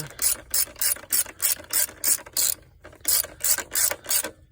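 A ratchet wrench tightens a 10 mm nut on the air intake of a 1999–2002 Chevy Silverado/GMC Sierra 1500. Loud, close clicking comes in steady repeated strokes, with one short pause midway and no talk.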